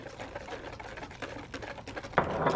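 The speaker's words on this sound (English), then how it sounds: "I'm just whisking that together, just making sure that the flour and that gravy mix gets all combined." A whisk clatters quickly against a bowl, beating flour, gravy mix and Miller Lite beer into a wet mixture with soft rhythmic sloshing, close and quiet.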